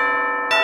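A school bell rings with a steady, bright metallic tone that swells louder near the end of a brief moment.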